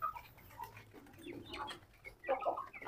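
Chickens with their chicks cluck and peep softly while pecking at pieces of flatbread, scattered short calls at moderate distance over a low background.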